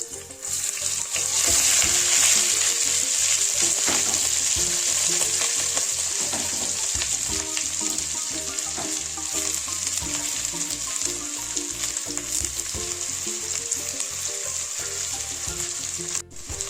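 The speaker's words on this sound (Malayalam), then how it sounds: "നമുക്കിനി അതിലേക്ക് നമ്മുടെ ഉള്ളി കട്ട് ചെയ്തിട്ട് കൊടുക്കാം." Chopped onions dropped into hot oil with heated fenugreek seeds, frying with a loud, dense, continuous sizzle that stays close and steady for the whole stretch, with occasional faint stirring taps and no voices.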